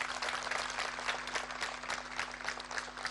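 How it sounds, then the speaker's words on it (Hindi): Loud, sustained applause from a large crowd at a public address at Patal Ganga, Maharashtra, dense clapping filling the whole stretch without pause. "तो जोरदार ताली बजाओ फिर, सही बात कह रहा हूं तो"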